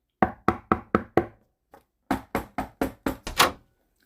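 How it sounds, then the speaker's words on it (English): Five quick knocks on a wooden door, a brief pause and a faint tap, then five more firm raps ending in a louder thump, close and clear. "Tennessee heard a knock at the door"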